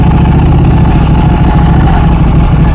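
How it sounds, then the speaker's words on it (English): A Ducati motorcycle with carbon bodywork, an 1199 Superleggera, runs close by with a loud, steady low rumble that holds even and unbroken throughout. "We got another Ducati."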